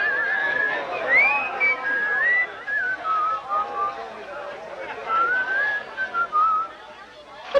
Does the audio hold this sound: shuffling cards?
no